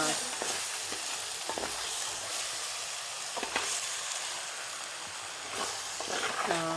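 Heron meat frying in a pan with softened tomato, stirred with a spoon, giving a steady close sizzle broken by scraping strokes throughout.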